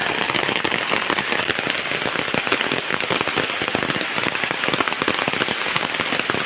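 Heavy village rain pours down in a dense, constant hiss, with sharp patters of drops striking nearby surfaces throughout.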